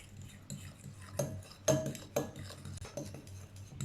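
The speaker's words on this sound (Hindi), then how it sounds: "अब इसमें आधा खुश्क दूध डालेंगे। इसको पहले अच्छे से मिक्स कर लेंगे।" Milk powder stirred into a rasmalai mixture with a spoon in a bowl, giving several sharp metallic clinks and scraping taps spread irregularly over a soft rustling mix, close and moderately loud, with no talking.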